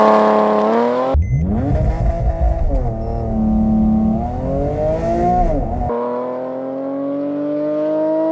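A Porsche 911 Carrera 4S (997) with PDK transmission revs hard from a standstill and climbs steadily in pitch as it accelerates, with a gear change midway and the engine note rising again, loud and close.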